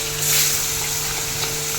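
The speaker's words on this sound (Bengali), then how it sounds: "তেল গরম হয়ে গেছে, এখন এক এক করে মাছ দিয়ে দেবো। অল্প করে ভেজে নেবো" Hilsa fish pieces frying in hot oil give off a steady, close sizzle and crackle that lasts throughout, with no talking.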